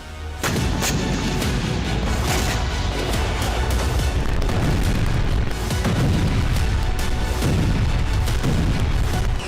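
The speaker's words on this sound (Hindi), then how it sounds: "एक जोरदार धमाके से इलाका दहल उठा" Loud, continuous roar of blasts and booming explosions from an attack on a gas pipeline, with sharp cracks layered through it, dense and sustained without a break.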